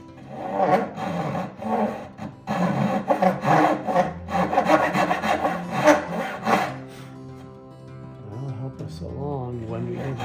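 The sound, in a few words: hand sawing walnut wood with a Dozuki saw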